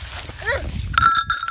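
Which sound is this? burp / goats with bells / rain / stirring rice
goats with bells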